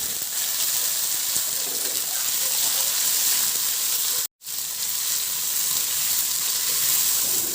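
Onion and tomato sizzle in a hot frying pan for chop suey. The sound is a steady, close frying hiss that continues without pause apart from one brief break near the middle.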